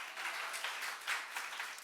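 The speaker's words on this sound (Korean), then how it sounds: "우리 주님께 영광의 박수, 믿음의 박수 올려드립니다" A church congregation bursts into applause during a worship service, with many hands clapping in a dense, steady roar that holds evenly throughout, with no talking over it.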